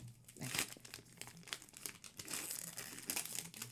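A Pokémon Twilight Masquerade booster pack wrapper crinkles and tears close by, a steady run of crackling, rustling foil with brief sharper rips.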